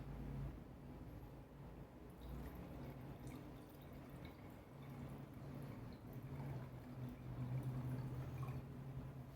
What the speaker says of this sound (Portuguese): E agora eu vou colocar água na taça para ver o que acontece.